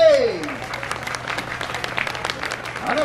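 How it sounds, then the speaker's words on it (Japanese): Crowd applause at an outdoor live show in a hot-spring plaza in Kaga, Ishikawa, welcoming young dance performers: a moderate, continuous patter of clapping while a host speaks and cheers over it. "それでは盛大な拍手でお迎えください"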